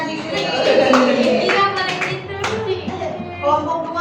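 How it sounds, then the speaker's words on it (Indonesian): Clapping hands in a school classroom, a scattered burst of applause mixed with overlapping voices and chatter throughout. "Tepuk tangan."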